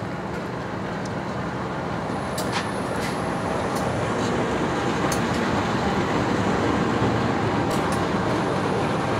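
Sawung Gali passenger train from Kutoarjo bound for Jakarta Pasar Senen arriving at a station, a steady low rumble of rolling cars with brief high squeals and clanks scattered through, no voices.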